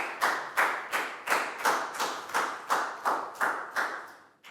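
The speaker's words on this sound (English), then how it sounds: "High five and a big round of applause for Nadia" Small group of children clapping in a classroom during a Year 4 maths lesson, about ten even claps in a steady rhythm, close and moderately loud with no talk over them.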